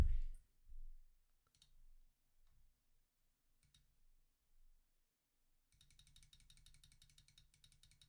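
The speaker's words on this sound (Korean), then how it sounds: "이거 마우스를 샀는데 소리가 좀" Sparse, sharp mouse clicks at irregular intervals, followed by a rapid run of quick clicking, close to the microphone.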